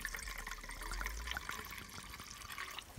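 Water trickling and pouring into a pot for boiling at a snowy winter campsite, a steady light splashing stream lasting a few seconds with no talk.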